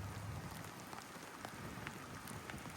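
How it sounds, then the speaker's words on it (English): Light rain falls outdoors with a faint, steady patter of drops on surfaces and scattered slightly louder taps throughout. "it's raining a little bit"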